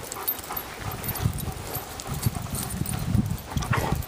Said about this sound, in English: He's a fast dog.